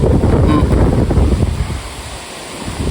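Sea waves wash continuously, with heavy wind buffeting the microphone; a faint voice may sit beneath the roar.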